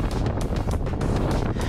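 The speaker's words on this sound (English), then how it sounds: "The ridge was subject to the most phenomenal wind speeds." Strong gusting wind buffeting the microphone on a mountain ridge, a loud continuous roar with surging gusts and no voices.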